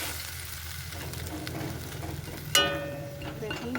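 Ripe amra (hog plum) gets stirred in a pot after salt goes in, a low sizzle and soft scraping, then a sharp metallic clink of the utensil against the pot near the end.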